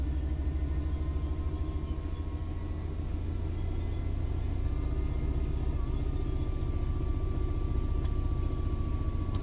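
Class 66 diesel locomotive in Train Sim World 5 accelerating at full throttle: a heavy, steady low engine rumble and drone that grows slightly louder as power builds, with a faint rising whine, no voices.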